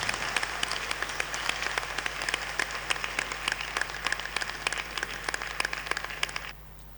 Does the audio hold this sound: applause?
yes